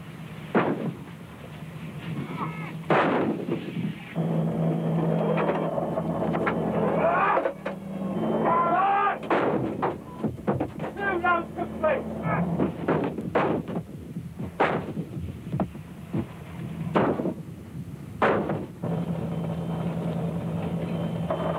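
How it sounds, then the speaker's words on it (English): Conventional artillery barrages in the 1990–91 Persian Gulf War: repeated heavy booms and blasts with engine rumble underneath, sustained and loud throughout with sharp bursts scattered across the scene. "barrages from more conventional artillery"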